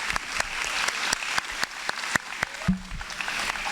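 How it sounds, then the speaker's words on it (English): Audience applause for a young girl singer at a school prize-giving day, sparse and uneven with distinct individual hand claps rather than a dense roar, fairly close. "Can we have another round of applause for her?"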